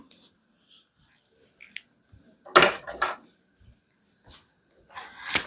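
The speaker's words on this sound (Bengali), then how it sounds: "আমি মার্কারটা পরিবর্তন করি" A teacher swaps one marker pen for another, producing a few sharp plastic clicks and light handling taps with quiet gaps between them in an otherwise silent room.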